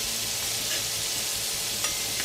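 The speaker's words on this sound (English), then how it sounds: "go ahead and place your shrimp, and we're going to cook them for 2 minutes per side" Shrimp frying in a hot skillet for a one-pot shrimp orzo, giving a steady, close, broadband sizzle that holds level throughout with a couple of faint clicks, no talking.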